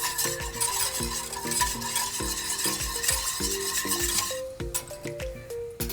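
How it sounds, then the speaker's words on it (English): A honey and soy sauce glaze is whisked briskly in a pan, the whisk striking the metal in fast rhythmic clinks over a faint sizzle, close and loud, with no talk. "we want to whisk this together really,"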